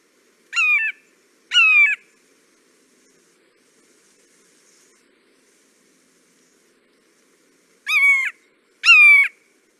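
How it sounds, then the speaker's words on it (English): A recorded red-shouldered hawk calls in two pairs of loud, sharp, descending screaming notes, with several seconds of silence between the pairs. "let's go ahead and listen to what one of these red-shouldered hawks sounds like"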